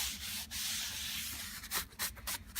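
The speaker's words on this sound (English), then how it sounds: "all I'm doing now is cleaning up the gunk inside of it" Cleaning gunk from inside a 1950s Kay K-6970 Swingmaster guitar body, a steady close scrubbing rub that breaks into shorter strokes toward the end, with no talk.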